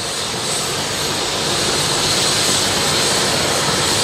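Lifeline medical helicopter noise fills the air as a loud, steady broadband roar, constant and close, with no talk over it.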